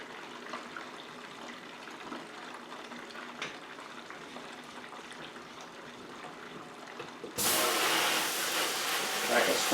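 A garden hose sprayer suddenly bursts into a loud, steady hiss of spraying water after a stretch of quieter background noise, used to rinse homebrewing equipment while a beer batch cools.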